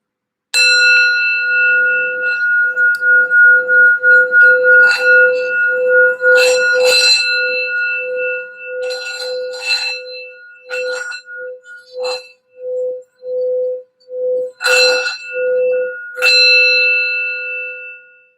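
A small bell rings with a clear sustained tone, struck repeatedly at first, then in short separate dings and a few final strikes, loud and close with no talking.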